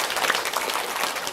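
A group of students clapping together in the 'tepuk nyamuk' clapping game, with a quick burst of many hands clapping over a short stretch.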